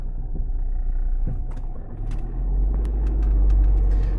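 Steady low engine rumble from a car on the road, continuous and fairly close, swelling slightly louder toward the end with faint mechanical clicks above it, no talking.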